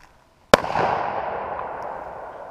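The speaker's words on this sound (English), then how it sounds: "I'm gonna load this bullet and this gun, and I'm gonna shoot that yellow dot down yonder" A single sharp crack from a small handgun fired outdoors at a target, loud and close, followed by a long fading echo.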